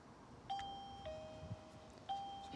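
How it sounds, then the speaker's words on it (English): A MOMAX SL3S smart wireless video doorbell rings with clear electronic chime tones, a sustained two-note pattern that sounds once and then starts again about a second and a half later, close and alone with no talking. "Now if I ring the doorbell,"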